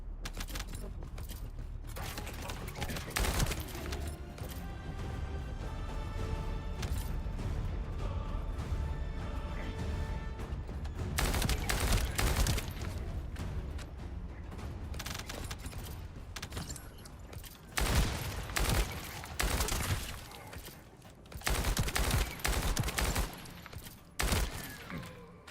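Weapon fire against enemies in The First Descendant, an ongoing loud barrage of gunshots with metallic clatter and mechanical effects and a few brief lulls.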